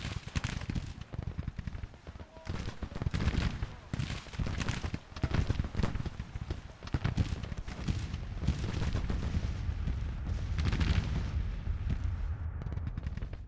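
Artillery fire in the Civil War strategy game Grand Tactician rolls as repeated heavy booms and crackling volleys, a continuous battle din with a voice talking over it.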